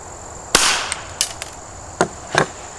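Taurus pistol fires an Aguila Sniper Subsonic round, a sharp, fairly muted crack with a short tail, followed by several smaller clicks and knocks from handling.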